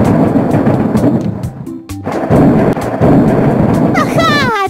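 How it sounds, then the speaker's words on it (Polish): Deep rolling thunder in a children's video game, loud and close, rumbling over steady rain with a sharp crack partway through and a brief whistling tone near the end. "czyli to tylko odgłos grzmotu"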